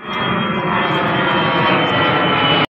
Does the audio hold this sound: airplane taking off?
yes